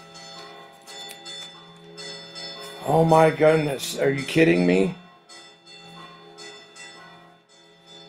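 A church bell rings in the distance at a Catholic Mass hour, its sustained tones humming steadily throughout while a voice exclaims in surprise partway through.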